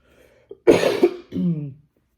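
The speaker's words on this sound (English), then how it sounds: "I've been having this freaking cough for like the last week." A single harsh cough bursts out close to the mic, followed by a short throat-clearing rasp.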